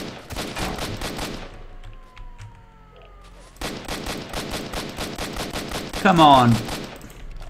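Rapid automatic gunfire in Stalker: Shadow of Chernobyl, two long bursts separated by a short lull, with a brief spoken remark and a sharp tonal cue near the end.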